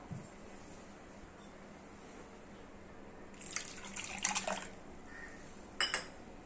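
Cold water is poured into cooked mango pulp after a quiet stretch, giving a short splashy pour near the middle and a brief second splash near the end.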